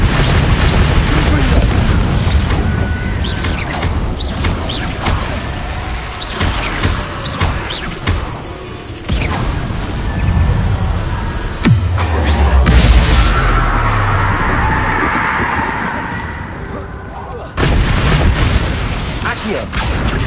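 Spell blasts from Confringo and Incendio in Hogwarts Legacy, a string of loud booms and fiery bursts with a heavy low rumble midway, mixed with game sound and occasional voice.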